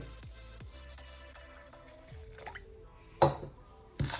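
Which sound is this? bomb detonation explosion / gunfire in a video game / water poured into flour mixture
water poured into flour mixture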